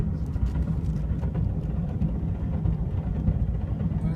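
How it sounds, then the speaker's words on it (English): A Dodge Stealth with its engine removed, towed slowly behind a truck, fills the cabin with a loud, steady low rumble and dense rattling road noise throughout. "we are moving the Stealth very slowly. No motor or anything, getting towed behind my truck. It sounds horrible in here."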